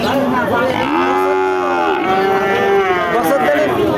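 A Sindhi breed cow at a cattle market in Barobazar, Jhenaidah, moos loudly and close by in long, drawn-out lowing calls, one after another with a brief dip between them.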